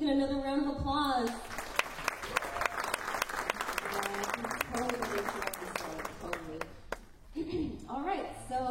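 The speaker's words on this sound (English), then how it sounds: "let's give Ethan another round of applause" A church congregation claps for Ethan, with dense applause rising after a voice, holding steady for several seconds and then fading as talking resumes.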